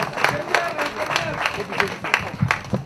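Crowd applause at a fan club launch event in Pointe-Noire: a lively mix of clapping and crowd noise with sharp hand claps standing out, continuing evenly across the short stretch.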